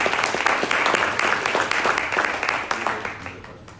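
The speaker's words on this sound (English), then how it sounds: "round of applause for David" A startup pitch event audience gives a speaker a round of applause, brisk dense clapping close and loud that tapers off slightly toward the end.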